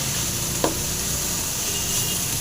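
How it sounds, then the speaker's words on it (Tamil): Spinach greens sautéing in a pan for thuvaiyal, a soft continuous sizzle with one brief sharp scrape of a spoon near the start. "இப்போ நல்லா வந்து ஃப்ரை பண்ணிக்கலாம். நல்லா வதக்கலாம்."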